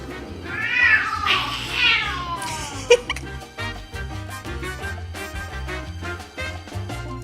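Two cats, one of them orange, meow in a series of loud, close, whiny calls, one long yowl followed by many quick short meows and chirps, with no talking.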